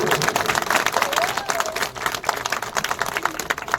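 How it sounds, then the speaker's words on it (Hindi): Crowd applause at a Bihar election rally for NDA candidate Dinesh Rai: loud, continuous clapping from a large gathering, fluctuating in intensity throughout, with a faint voice rising above it for a moment. "जोरदार तालियों से स्वागत करिए"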